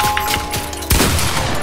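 Gunfire in Fortnite: a sudden sharp shot bursts out near the middle, followed by sustained noisy crackle, with no talk.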